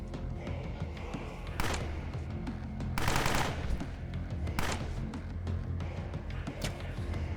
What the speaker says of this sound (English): Lots of bursts from a 5mm, it sounds like